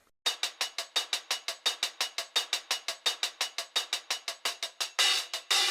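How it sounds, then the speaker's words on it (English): An unchopped hi-hat loop for a boom bap beat plays alone, with a steady run of about two dozen crisp, bright, evenly spaced hits that ends in a couple of longer, open washes. "I found this hi-hat loop over here"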